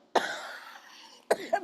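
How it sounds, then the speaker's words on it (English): Two sharp, harsh coughs close to the microphone, the first trailing off into breathy noise, the second followed by a short rasp. "I have a bad cough."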